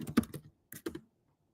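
Fast clicking of keystrokes on a computer keyboard as a kubectl command is entered, in two short close bursts separated by a pause, then silence.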